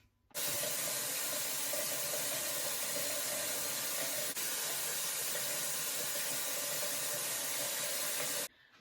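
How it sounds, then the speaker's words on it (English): Water runs from a tap in a steady, close hiss for about eight seconds while a towel is wetted and rinsed, then cuts off abruptly. "I'm just gonna wet this and wipe it off"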